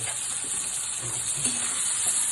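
Ginger paste ground with green chili sizzles and fries steadily in a pan of oil for a vegetable paneer dish, a close, continuous hiss without talk.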